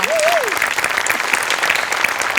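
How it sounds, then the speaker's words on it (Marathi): An audience at a comedy skit show breaks into applause, dense clapping from many hands filling the whole moment, with a brief voice at the start. "या स्पिरिटसाठी टाळ्या"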